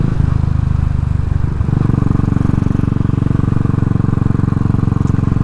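Royal Enfield motorcycle fitted with Armstrong-style shrouded shock absorbers, engine running steadily on a road test ride, a loud continuous low throb throughout with no talk.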